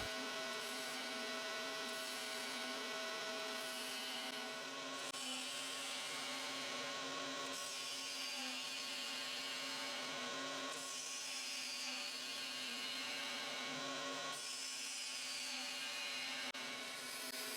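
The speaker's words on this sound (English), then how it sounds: "a well-sharpened scraper can be as effective as the gouge, as seen by the quality of the shavings I am getting" A sharp scraper cuts dry, hard maple spinning on a wood lathe, a steady continuous scraping and whirring hum with no pauses, close and moderately loud.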